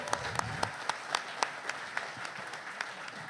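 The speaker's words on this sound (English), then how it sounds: "Please give a humongous round of applause for Mr. Julian Van Winkle." An audience at a bourbon speaker series gives a round of applause, a moderate, thin clapping with distinct individual claps spread evenly over a few seconds, without voices.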